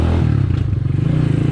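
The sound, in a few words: Skygo Earl 150 motorcycle CG 150 engine at light throttle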